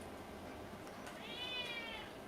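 A house cat meows once, a short rising-and-falling cry in a quiet indoor room, faint and close, with no one talking over it.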